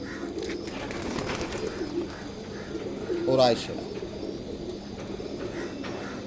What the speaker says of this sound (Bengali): এইটা হইলো আমার আরেকটা কবুতর।